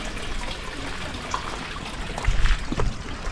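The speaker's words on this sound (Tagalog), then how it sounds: "Ang ganda ng tunog ng kanal," Water in a canal in Kyoto, Japan gurgles and splashes continuously nearby, a flowing, burbling stream with a few louder sloshes toward the end.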